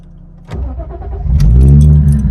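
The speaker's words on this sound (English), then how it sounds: "go and turn your car on" A car's engine cranks and catches about halfway in, then settles into a loud, steady idle close by, with no one talking.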